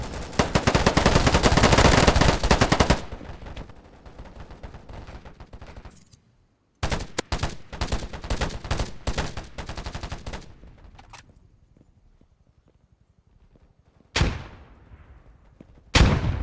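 A video game shootout with loud bursts of rapid automatic gunfire, broken up by short silences and a few isolated shots, then more sharp bursts near the end.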